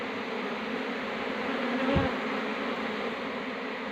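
A honeybee swarm crowding into a hive makes a dense, steady buzz that hums on without a break, close and even in volume, with no talking.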